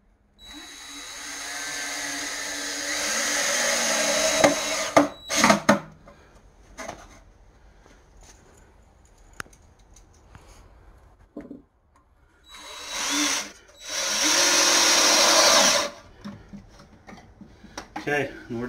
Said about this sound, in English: we're gonna line them up on the marks we made and just screw them to the inside of that box